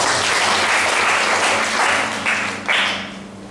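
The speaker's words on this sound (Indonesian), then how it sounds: "Luar biasa, kasih tepuk tangan dari Tuhan." A church congregation applauds during a worship service, a dense, steady wash of many hands clapping that fills the room and tapers slightly toward the end.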